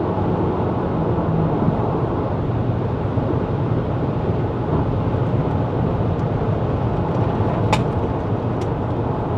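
Inside a 2024 GWM Haval H6 HEV in Sport Mode, the engine and road roar hold a dense, continuous rush at high RPM and highway speed, steady and loud with no speech.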